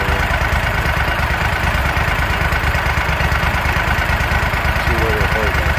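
A warmed-up small engine idles at about 1,000 RPM, a steady, loud, close throbbing with a slight fluctuation and no pauses.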